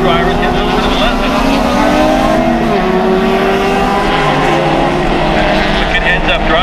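Closed-wheel Group 1 race cars, a Mini among them, race in a driving video game. Loud, close engines drone and whine with shifting pitches as the cars jostle, while a commentator talks over them.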